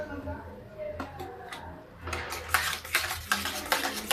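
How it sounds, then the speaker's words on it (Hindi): A spoon stirs semolina in milk in a pan, soft at first, then turning into repeated clinking scrapes against the metal pan, a steady rhythm of close taps in the later half. "लगातार चलाते हुए इस सूजी को इसके अंदर पका लेनी है"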